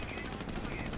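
Dense, sustained automatic gunfire in the World War II strategy game Company of Heroes, set during the fight for Caen: a steady close rattle of machine-gun bursts filling the whole moment with no pauses.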